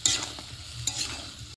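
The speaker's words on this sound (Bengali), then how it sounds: "এখন মশলার সাথে ভালো করে মিক্স করে নিব এরকম করে।" Taro (kochu) is stirred with spices in a pan for a river prawn curry, giving close scraping strokes and a soft frying sizzle in two quick bursts.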